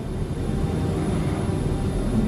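An Avro 146 regional jet in flight, heard as a steady, loud engine drone that holds a constant level throughout, with no voices.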